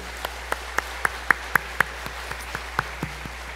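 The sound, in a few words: congregation applause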